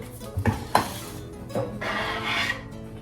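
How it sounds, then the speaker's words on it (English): Tomato chicken bouillon stirred into Mexican rice in a pot, a spoon scraping and clinking against the pan in a few short strokes followed by a longer rasping drag, close and fairly quiet. "I'm just going to stir this around."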